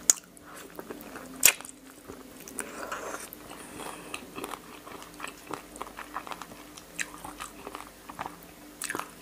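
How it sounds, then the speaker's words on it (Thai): Stewed, very tender chicken feet served with rice noodles are bitten and chewed right at the mouth, with two sharp crunches early on followed by steady, wet, crackly chewing and small bone crunches. "มันอร่อยนะแต่มันลำบากตอนกินเนาะต้องคายกระดูกคายอะไรเงี้ย"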